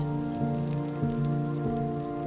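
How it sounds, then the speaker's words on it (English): Garlic and ginger sauté in hot oil in a pan, a close, even crackling sizzle over a steady low hum from a kitchen appliance. "Heat the oil in a pan, add the garlic and ginger, and saute until fragrant."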